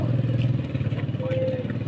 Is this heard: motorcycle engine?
yes